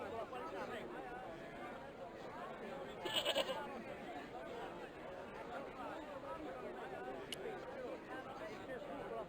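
A goat in Broken Sword: The Smoking Mirror Remastered lets out a short bleat partway through, set against a low murmur of background chatter and ambience.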